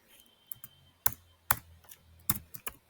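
Keys on a computer keyboard clack as code is typed, a few sharp, close strokes spaced irregularly with softer taps between them.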